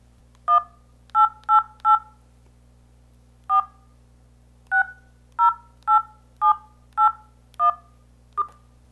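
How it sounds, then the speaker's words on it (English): Touch-tone dialing beeps from a Verve Snap phone on speakerphone, a run of about thirteen short, clear two-tone beeps in quick irregular groups with brief pauses, close and distinct over a faint hum. "listen carefully while I dial this number"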